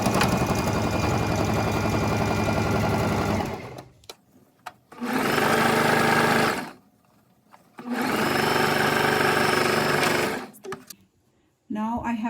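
A sewing machine stitches a French seam in tweed fabric, running in three loud, steady bursts of whirring motor hum with short quiet pauses between them, close by.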